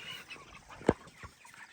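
A single short cluck from a chicken penned in a mobile chicken tractor, standing out briefly against quiet farmyard background noise.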